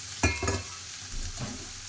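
Vegetables frying in a pan before Maggi noodles go in, with a couple of clattering stirs over a faint sizzle. It is close, quiet and brief.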